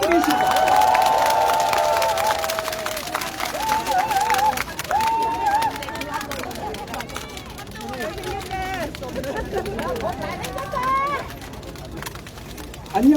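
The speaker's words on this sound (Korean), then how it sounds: "박수 부탁드리겠습니다." A crowd at an outdoor election rally in Dongmun Market, Jeju, claps and cheers in a long, loud wash of applause with voices, whistles and chatter mixed in, fading then rising again at the end.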